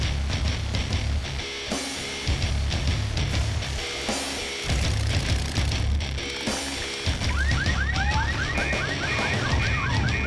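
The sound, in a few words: car alarms going off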